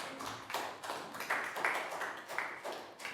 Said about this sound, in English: Big round of applause for Pat.